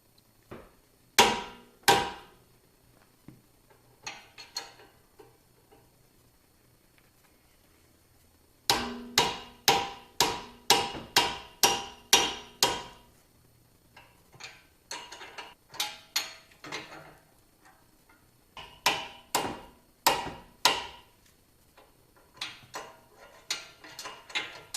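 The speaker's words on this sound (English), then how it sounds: "I'm doing with the hammer and that wrench, I'm just giving it real short, quick hits" Short, quick hammer blows on a wrench to break loose a nut on a 2010 Audi S4 during lower control arm work: sharp metallic taps in rapid bursts of several strikes, separated by pauses, with no talking.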